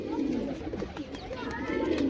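Pigeons cooing, with low soft coos repeating over a continuous background hum of outdoor noise.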